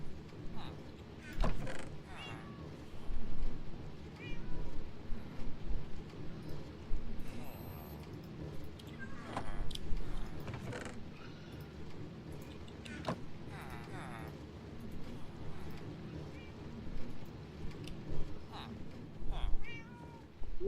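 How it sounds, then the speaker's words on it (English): Cat meows from the video game Minecraft, several short mews scattered through the stretch over game background noise, with people talking throughout. "I hear cats. What's that? I hear kittens."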